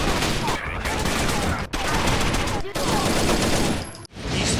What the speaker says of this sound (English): you can still lay down some pretty intense semi-auto fire.